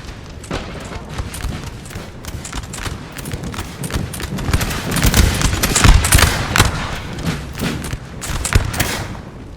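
Musket volleys crackle in a Napoleonic battle of Napoleon Total War, the Battle of Stralsund in 1809, as dense overlapping shots pop steadily with thumps and clatter, loud and continuous throughout.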